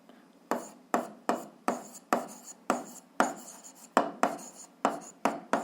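Handwriting on paper while checking a seventh-grade algebra equation solution: a steady series of crisp pen strokes, about two per second, close up and alone.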